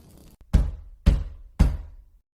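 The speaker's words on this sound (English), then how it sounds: "slow, deliberate taps" Three slow, heavy knocks on a front door, evenly spaced about half a second apart. Each one lands loud and close in an otherwise quiet late-night house.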